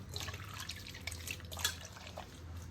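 Mango-peel water drips and trickles softly as wet mango peels are squeezed by hand, with scattered small splashes close by over a quiet background.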